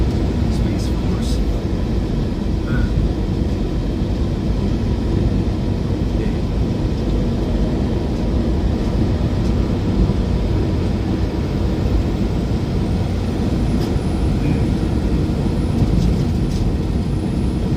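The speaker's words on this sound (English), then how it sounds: "I got a fan running in the background." A steady broadband whir from an electric fan fills the whole stretch, constant and close, droning without pause; faint clicks and shifts surface now and then.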